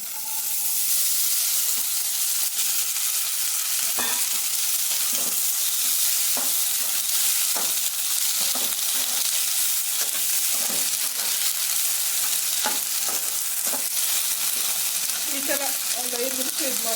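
Washed green peas sizzle steadily in hot oil, a dense bright frying hiss throughout with repeated scraping clicks of a spoon stirring the pan, close and fairly loud, a faint voice briefly near the end.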